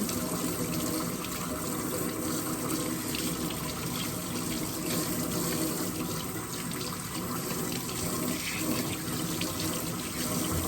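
Shower water streams steadily and close up as hair is rinsed, a dense unbroken hiss of spray with no talk.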